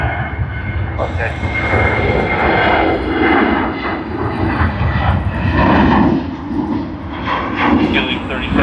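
Airliner engines roar steadily at an airport, a loud continuous drone that swells and eases, with radio voices talking over it.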